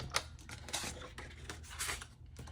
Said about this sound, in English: we are going to cut on that first line